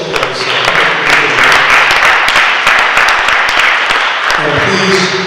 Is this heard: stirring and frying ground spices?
no